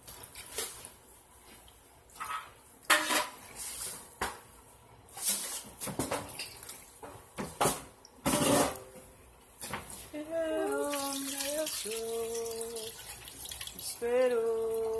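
Tap water runs and splashes while rice is washed in a home kitchen, arriving in uneven, close bursts. A voice sings over a steadier rush of water near the end.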